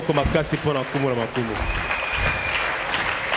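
A church congregation applauding during a sermon, a steady wash of clapping that starts under a loud voice speaking and then carries on alone.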